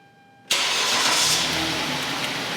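A car engine cranks and catches abruptly after a quiet moment, then settles into a steady, close idle, with no talk over it.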